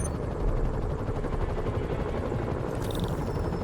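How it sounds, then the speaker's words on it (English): Helicopter rotor noise in the Marvel's Spider-Man video game, a steady dense low thrum with continuous rumble throughout, loud and close, with a brief high whine near the end. "Bet I can use those helicopters to swing."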